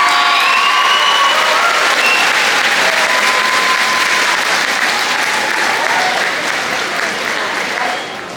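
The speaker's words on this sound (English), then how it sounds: "Join me in a round of applause for all of our grade 9 class of 2025." A crowd at a grade 9 farewell ceremony claps loudly for the graduating class, dense sustained applause with a few cheers, fading slightly at the end.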